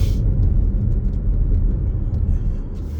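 A car accelerates through a turn at an intersection, its steady engine rumble and road noise loud and close throughout, easing slightly toward the end.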